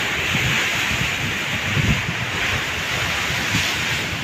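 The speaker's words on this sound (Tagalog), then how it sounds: "Medyo malakas na yung hampas ng alon." Ocean waves surge and crash nearby along a boulevard seawall in Bayawan in a continuous heavy wash, with wind buffeting the microphone over the steady roar of surf.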